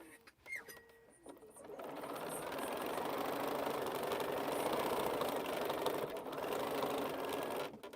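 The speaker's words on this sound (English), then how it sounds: "I'm sewing like I'm sewing on 2 pieces of fabric and I got a piece of foam here." A sewing machine stitches through two layers of fabric and a piece of foam, a fast continuous mechanical whir with a steady rhythm, close up, starting after a brief pause and running to the end.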